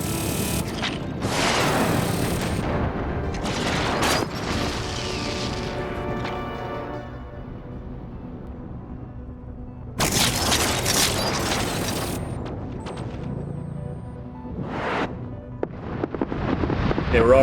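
Weapons fire in a space battle in the strategy game Endless Space 2, including titanium missiles: heavy booming bursts and crackling volleys come in separate waves, loud and layered over a mechanical hum, with quieter stretches between the barrages.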